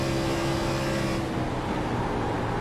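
A pack of race car engines drones loud and steady in a sim racing game during an Auto Club playoff race, a continuous mechanical roar with no pauses.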